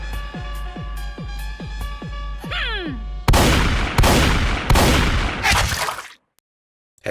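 Shotgun blasts in the video game Buckshot Roulette, a few loud booming reports that ring out and decay after a run of rhythmic mechanical clicks, ending in sudden silence.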